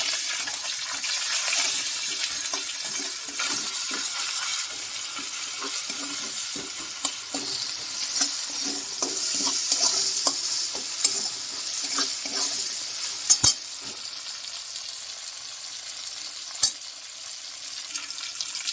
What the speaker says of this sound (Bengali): আদা লঙ্কাটা ভাজা হয়ে গেছে, এবার আমি একে একে মশলা যোগ করে দিচ্ছি।